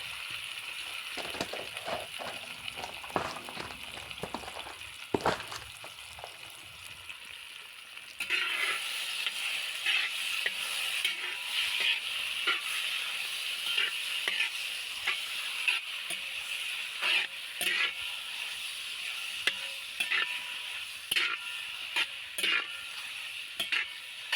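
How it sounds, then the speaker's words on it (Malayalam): Cleaned jackfruit sizzling in ghee in an uruli pan while being stirred for halva, a soft steady crackle with repeated scraping strokes that grow busier partway through. "അതിലേക്ക് വൃത്തിയാക്കി വെച്ച് ചക്ക ഇട്ട് കൊടുത്ത് നന്നായിട്ടൊന്ന് ഇളക്കി കൊടുക്കുക"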